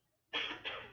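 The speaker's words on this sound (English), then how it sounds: "oh, and I can hear myself coughing" Two quick, harsh coughs close to the mic, one right after the other, after a moment of near silence.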